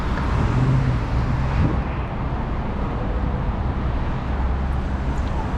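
Road traffic rumbling past on a Toronto street, heard from a bicycle with a helmet-mounted GoPro 9 in February: a steady low roar of passing vehicles, louder at the start, with wind buffeting the microphone.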